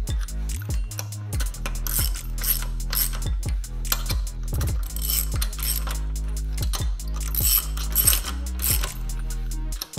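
Socket ratchet snugging the wheel nuts on a 2022 Tesla Model Y during a winter tire change, a close, steady series of rapid metallic clicks in repeated bursts, alone with no talking.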